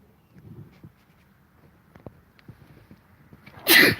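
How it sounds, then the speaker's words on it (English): A single sharp sneeze bursts out at the end after near-silence with faint shuffling. "I just sneezed."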